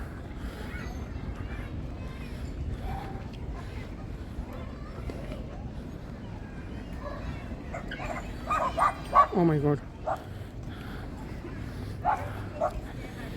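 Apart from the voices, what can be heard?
small dog barking and yipping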